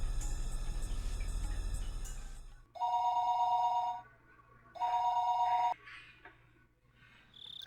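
A telephone rings in repeated electronic bursts, each long trill separated by short pauses, loud and close, after a steady low hum at the start.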